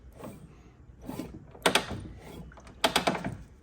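A Harley-Davidson Knucklehead engine turned over by hand with its points opening and closing, giving a few close mechanical clicks and ratcheting clunks in two short bursts, quiet between them.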